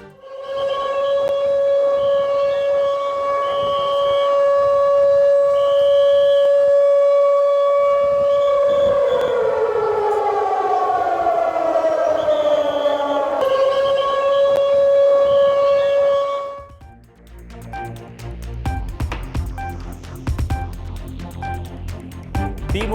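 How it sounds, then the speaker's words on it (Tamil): A loud warning siren sounded by forest officials at the crowded Courtallam waterfalls wails in a long steady tone, then glides downward and rises again before cutting off, leaving a murmur of crowd and outdoor noise. "கூட்ட நெரிசலை கட்டுப்படுத்த வனத்துறையினர் அபாய சங்கை ஒலித்ததால் பரபரப்பு."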